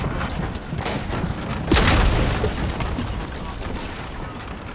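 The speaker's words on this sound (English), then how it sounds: "The falconet would be heavy enough to destroy the barricade." In Shadow of the Tomb Raider, a heavy falconet cannon blasts apart a barricade inside a cavern, one loud boom and crash standing out over a rumbling, noisy game background.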